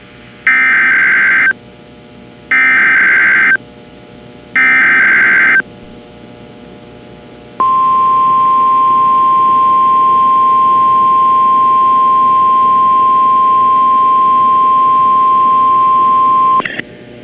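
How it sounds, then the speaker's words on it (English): NOAA Weather Radio warning alarm test on WXK26: three loud, evenly spaced tone bursts of roughly a second each, then a long steady single-pitch alarm tone holding for about nine seconds, with no talking. "This is a test of the National Weather Service NOAA Weather Radio Warning Alarm System"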